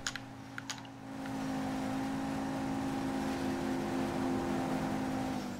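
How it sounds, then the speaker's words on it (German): A damaged car gearbox in Grand Theft Auto V whines with a steady high-pitched drone over engine rumble, after a few clicks at the start, following a crash. "Ich glaube, das Getriebe ist hin, wie es klingt"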